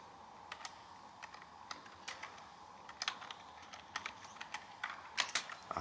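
Soft, close clicking of keys on a computer keyboard as HTML code is typed, in irregular bursts of keystrokes with brief pauses in a quiet room.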